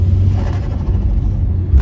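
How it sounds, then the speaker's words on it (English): A turbocharged Ford Escort Cosworth replica engine gives a loud, close, deep rumble that holds steady, then rises in a short blip near the end. "let's hear some noises and all the benefits of this turbo"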